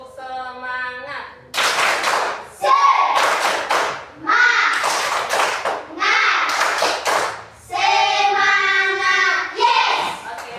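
A group claps the rhythmic 'tepuk semangat' spirit clap in a classroom-style session, loud bursts of quick patterned claps repeating in several rounds, with voices chanting along between and over the claps.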